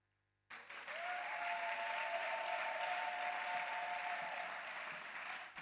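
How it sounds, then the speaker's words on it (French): Mothers in a church congregation applaud the fathers, breaking into loud, sustained clapping that starts abruptly after silence and holds steady, with a faint tone sounding above it. "Est-ce que les mamans peuvent acclamer les papas?"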